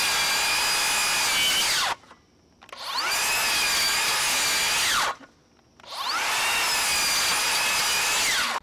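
Rear handle circular saw ripping across wood in three long, loud cuts, each a sustained high whine separated by short pauses as the blade spins down.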